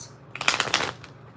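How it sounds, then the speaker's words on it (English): Fortune-telling cards are shuffled quickly and close by, making a rapid flurry of papery riffling clicks that lasts under a second, with no talking over it. "These cards are flying. I can't even shuffle."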